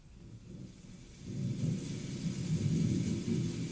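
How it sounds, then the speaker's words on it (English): An Alexa smart speaker plays a recorded thunderstorm ambience at low volume, a steady deep rumble with rain hiss that swells and grows fuller after the first second, with no talking. "Alexa, play thunderstorm meditation."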